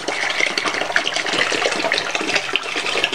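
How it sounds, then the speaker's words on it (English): Isopropyl alcohol, about a liter, is poured into a homemade aftershave mixture, making a continuous splashing, gurgling stream of liquid close at hand. "we're going to use our IPA, that's isopropyl alcohol, but that one we're just going to use only 1 liter."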